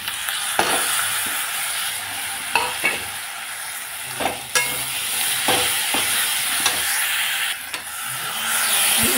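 Spices fry loudly in a pan for an egg curry, a strong steady sizzle broken by repeated scraping stirs at irregular intervals, close up and without talk.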